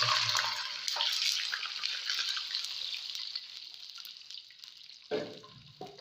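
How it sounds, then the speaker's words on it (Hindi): Water poured into hot oil already holding cinnamon, black cardamom, black pepper and cumin, for aloo baingan rice, sends up a loud steady sizzling hiss that slowly fades, with a brief splash near the end. "अब इसके साथ ही हम इसमें शामिल करेंगे पानी।"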